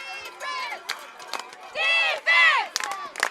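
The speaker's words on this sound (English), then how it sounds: "The crowd continues to be loud." Loud home-side crowd at a night high school football game, Galena Bulldogs at Columbus Titans, cheering and shouting in swelling bursts, with a big roar midway and scattered yells between.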